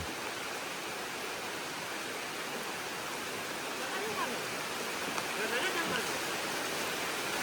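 Rain pours steadily through a forest as a dense, even hiss that holds at a constant level throughout, with a slight swell near the end.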